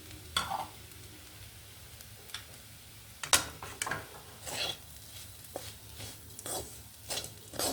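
A spoon stirs grated fresh coconut into a raw banana curry in a pan, giving irregular scraping clinks and taps over a faint sizzle, close and clear, with no talking.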